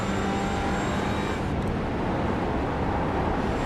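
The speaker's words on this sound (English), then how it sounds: "You can hear the revs go up from where it lifts up." Race car engine in a sim racing game at Lime Rock, a steady loud roar that lightens and rises in revs as the wheels lift, continuous throughout with a brief dip midway.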